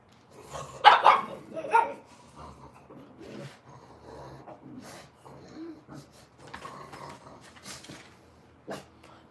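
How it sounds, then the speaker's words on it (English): Frankie the dog barks indoors: a few loud, separate barks early on, then scattered softer woofs and one sharp bark near the end, with quiet gaps between them. "I'm not sure what you're barking at."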